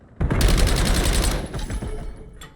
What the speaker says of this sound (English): Big gunfight here between Kirby and Nom